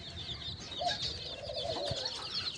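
Aseel hens of the khajuri (date-brown) colour with their chicks make steady soft clucking and chirping among other fowl, moderately close against a busy background of bird calls.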